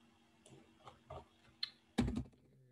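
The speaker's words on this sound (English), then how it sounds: "Again, I will type my long command." Computer keyboard typing a command: a handful of soft, spaced key clicks ending in a quick louder cluster of keystrokes, close and quiet.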